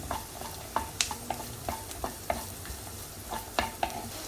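Onions and curry leaves sauté in a pan for rava upma, a soft steady sizzle punctuated by a dozen or so sharp spatula clicks and scrapes against the pan.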